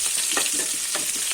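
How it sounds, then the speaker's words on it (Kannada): Green chillies fry in hot oil for a lemon rice dish, a dense close sizzle with faint stirring scrapes running steadily throughout. "ಹಸಿ ವಾಸನೆ ಹೋಗೋವರೆಗೂ ಹಸಿಮೆಣ್ಸಿನ್ಕಾಯಿನ ಫ್ರೈ ಮಾಡ್ಕೊಂಬಿಡೋಣ."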